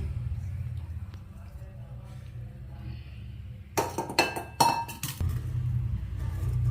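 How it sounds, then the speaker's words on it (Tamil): Moong dal puttu with coconut is stirred in a pan, giving a short burst of clinking and scraping strokes midway, close by, over a low steady hum. "தேங்காய் போட்டு கிண்டி விடணும்."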